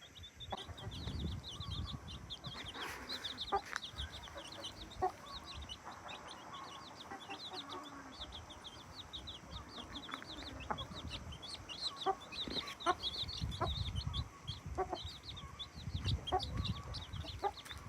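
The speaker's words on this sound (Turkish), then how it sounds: "Civcivlerimiz de buralarda geziyorlar." Hens and small chicks mingle on a farm, with soft repeated clucks and a steady chorus of high, rapid chick peeps, fairly close and moderately quiet, no talking.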